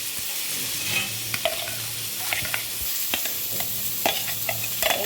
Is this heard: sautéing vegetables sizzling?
yes